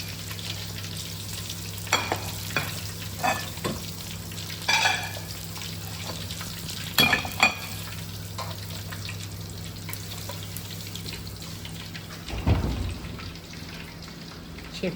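Rupchanda pomfret fries in oil with a steady bubbling sizzle, punctuated by occasional louder spits and stirring clatters, alongside a faint low hum and no talk.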